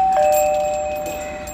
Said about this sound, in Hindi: घंटी बजा रहा हूँ, कोई खोलता नहीं